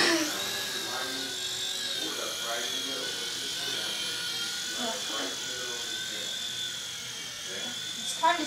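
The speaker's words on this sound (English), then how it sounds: "I'm gonna be trying to fly this RC helicopter" A small RC helicopter whines with a steady high-pitched electric motor buzz and rotor hum throughout, close to the microphone, while a person talks over it.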